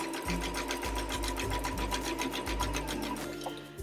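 Sewing machine running steadily while stitching a straight line through quilting fabric, a close, continuous motor whir with fine rapid needle ticks and a few brief pauses in speed.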